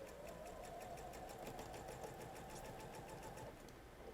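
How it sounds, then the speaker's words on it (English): A sewing machine stitches a quilt block with a scant quarter-inch seam, starting at the corner, as a faint, even, continuous hum throughout. "I'm going to start sewing at the corner of the block."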